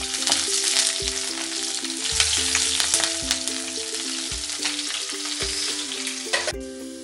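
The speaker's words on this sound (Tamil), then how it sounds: "இப்போ நம்ம எல்லாமே அதை வறுத்துக்கலாம்" Green chillies fry in a pan for spicy egg chilli, giving a loud, continuous crackling sizzle with a steady tonal hum beneath and a few soft stirring knocks.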